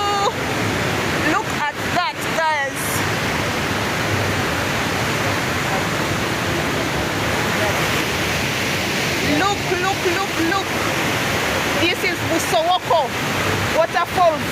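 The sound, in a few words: Busowoko waterfall rapids in Jinja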